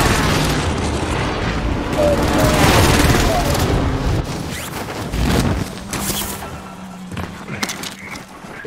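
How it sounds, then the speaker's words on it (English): Heavy booming blasts from an allied precision airstrike in a video game, rumbling continuously under voices and game radio chatter, fading into scattered impacts. "Allied precision airstrike incoming."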